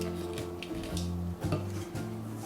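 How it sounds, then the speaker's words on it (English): Pecans being mixed into gluten-free, dairy-free pecan sandie cookie dough, close up, with a steady motor hum that shifts in pitch and faint scraping knocks, no talk. "So I'm going to add my pecans to my mix"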